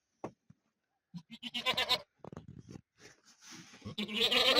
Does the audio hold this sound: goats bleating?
yes